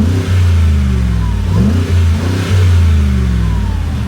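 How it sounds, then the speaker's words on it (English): A Mercedes G63 AMG V8 engine revving in comfort mode, loud and close, with deep rumbling idle broken by a couple of throttle blips that rise and fall, no talking over it. "the main cheese that we want to listen to is what this V8 sounds like"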